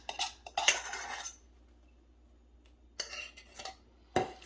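Salad with apples and gorgonzola dressing gets mixed in a bowl, utensils clinking and scraping in short clattering bursts separated by quiet pauses, close and fairly soft.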